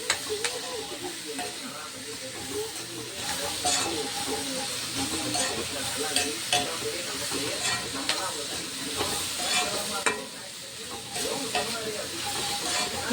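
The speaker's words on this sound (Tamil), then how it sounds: "கருவேப்பிலை கொஞ்சம் வதங்கிட்டோம்" Curry leaves sauté in hot oil for a coriander chutney, giving a steady, close sizzle with repeated scraping stirs and small crackling bursts throughout.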